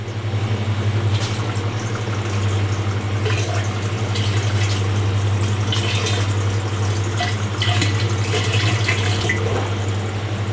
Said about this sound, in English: I put a couple of good glugs in there, the beer line cleaner